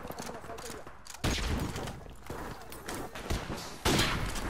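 Gunfire in Call of Duty Modern Warfare Remastered: sharp, loud shots and bursts with two heavy blasts, layered over continuous game noise.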